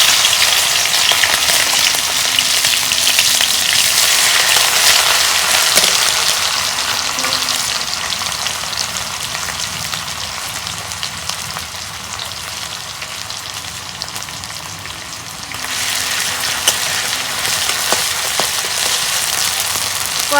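Chopped onion and garlic paste fry in hot oil in a wok for a loud, steady, rain-like sizzle that eases slightly midway and swells again, with occasional soft stirring clicks.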